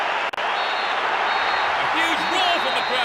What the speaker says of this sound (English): A huge roar from the crowd as the referee blows the final whistle.